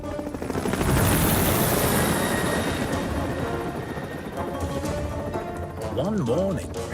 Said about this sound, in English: One morning, Harold the helicopter was rescuing some climbers from the rocks near Callan Castle.